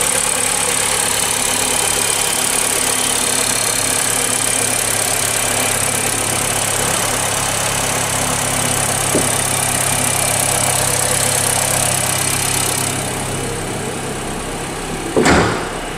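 A Honda City 1.5 automatic car idles with the hood open: a steady, close mechanical hum that eases slightly near the end, followed by a sharp single thud.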